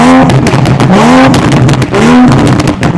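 A car engine revs hard and close, with three rising roars in quick succession, each climbing in pitch then dropping back, loud and raw.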